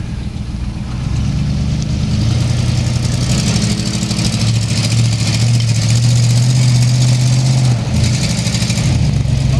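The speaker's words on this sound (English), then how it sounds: "Here comes the two-wheel Ford. With one dead cylinder." A two-wheel-drive Ford truck running on one dead cylinder, its engine loud and close with a low, uneven drone that builds and holds steady, rising slightly near the end.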